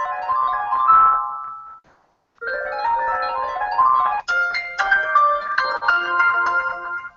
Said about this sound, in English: I'm going to make that my default telephone ringtone